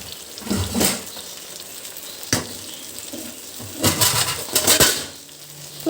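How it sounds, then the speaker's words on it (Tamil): Beetroot and potato frying on a dosa griddle, with steady faint sizzle broken by several sharp metallic scrapes and clanks of a spatula, close by. "இது மாதிரி ஒரு தோசைக்கல்லில் போட்டு ஃப்ரை பண்ணிங்கன்னா ஈஸியாக வெந்துடும்."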